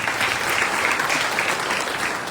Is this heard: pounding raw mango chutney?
no